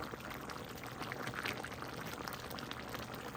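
Spareribs with fresh mushrooms simmer in a pot, giving a faint, steady bubbling and popping hiss close by, with no voices over it.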